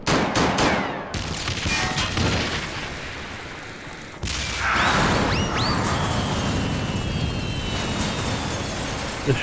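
Gobbies shooting in Final Fantasy XIV produce loud booming blasts and crackling gunfire, with a sharp explosive onset midway followed by sustained rumbling and whistling effects.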